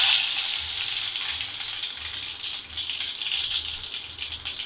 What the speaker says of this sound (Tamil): கடுகு போட்டோன்னா கொஞ்சம் பொரியிற சத்தம் வரணும்